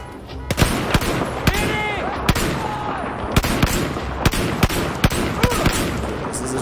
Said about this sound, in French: Je tire, attention!